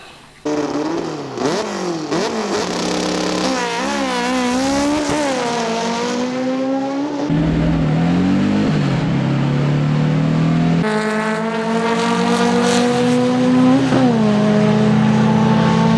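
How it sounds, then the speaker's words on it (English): A VW-engined drag car launches down a drag strip, its engine loud and close, revving hard through rising pitch sweeps with gear changes and a raspy, sustained roar that keeps climbing to the end. "Our engine finally made it to the drag strip."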